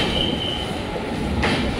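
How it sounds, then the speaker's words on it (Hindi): A Sampark Kranti express train leaving Bandra Terminus picks up speed, its loud rolling rumble and wheel clatter close by, with a brief high screech near the end. "ट्रेन तो अचानक से फास्ट हो गई एकदम"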